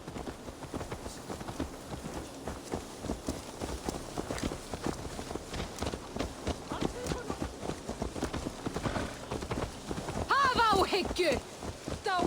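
Horse hooves clip-clop steadily in the Viking-era video game Assassin's Creed Valhalla, mixed with rain-like noise while people talk over them.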